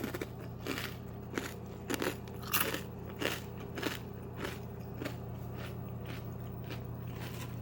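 Repeated close crunching of dry pita chips being chewed, steady bites with brittle cracks over a low background hum.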